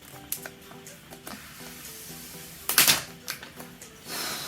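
The box of an iPad Pro 2020 is opened up close: a series of small taps, scrapes and rustles of cardboard, then a louder crinkly burst of plastic or paper near the middle and a soft rushing slide at the end.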